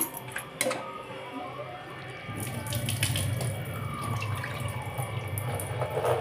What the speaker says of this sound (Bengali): দেখো তো মটরের ডালটা ভালোভাবে ধুয়ে নিচ্ছি।